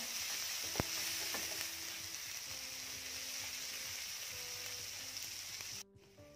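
Chopped onion and tomato sauté in hot oil for masala macaroni with a steady, close sizzle, one sharp clink of a spoon early on, and the frying noise stopping abruptly near the end.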